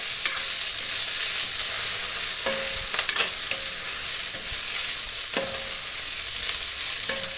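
Bitter gourd frying in a pan gives a steady, loud sizzle, broken by repeated scraping clicks of stirring at irregular intervals, with no voices.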